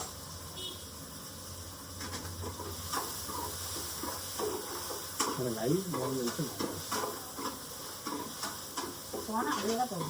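Onion, tomato and ginger garlic paste sautéing in a pan for a crab dish give a steady sizzle, and voices talk over it during the second half.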